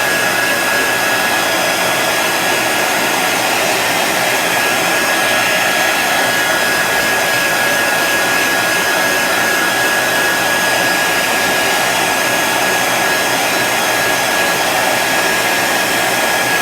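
A hair dryer blows steadily at close range to dry paint on a handmade farmstand sign, a loud, continuous whooshing drone with a faint whine and no break.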